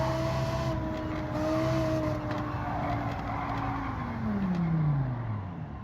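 Lamborghini Huracan Gr.3 race car engine in Gran Turismo 7 at Deep Forest Raceway, a steady loud engine note that rises and falls through gear changes, with a long descending pitch sweep near the end and faint tire noise.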